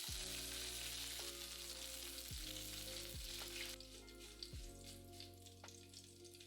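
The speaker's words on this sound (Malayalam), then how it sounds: "4 വറ്റൽമുളകും കുറച്ച് കറിവേപ്പിലയും ഇട്ട് ചൂടാക്കി" Dried red chillies and curry leaves sizzle hard in hot coconut oil with spluttering mustard seeds, a steady loud crackle that quietens slightly partway through, with low clunks from a utensil against the pan.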